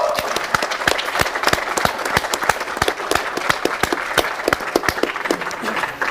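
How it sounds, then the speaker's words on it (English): A crowd claps steadily for a main sponsor at a hurling final, a dense run of sharp hand claps holding at an even level throughout, with a voice or two faintly under it. "I'd just like a round of applause for Gerry Kendi, our main sponsor"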